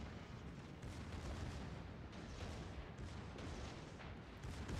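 Torpedo hits explode against a warship in a naval battle game, heard as dense overlapping low rumbling booms that roll on continuously for several seconds at moderate level.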